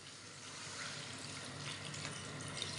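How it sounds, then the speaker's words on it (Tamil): Water poured into a pan of crab being cooked for a fry, a steady close hiss and trickle running for the whole stretch without a break. "இப்போ இந்த நண்டுக்கு தேவையான தண்ணியை ஊற்றிடுவோம்."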